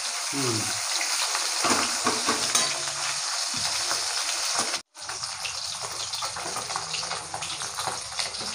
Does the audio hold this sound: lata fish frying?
yes